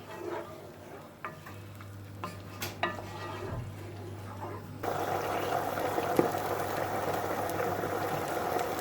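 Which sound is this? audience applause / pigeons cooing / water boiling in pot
water boiling in pot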